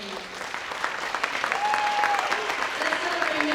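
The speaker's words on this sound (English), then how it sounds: "Give yourselves a round of applause." Audience applause at a high school graduation, a steady crowd of hands clapping throughout, fairly close and sustained, with a faint whistle-like tone partway through.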